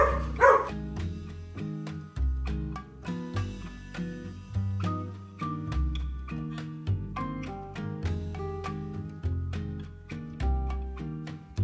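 Dogs bark repeatedly in an uneven, busy rhythm, with occasional yips and whimpers mixed in, fairly close and loud throughout with no talking.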